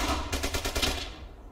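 Gunfire in the World War II shooter Brothers in Arms: Hell's Highway, a rapid burst of loud, close cracks in quick succession that fade out.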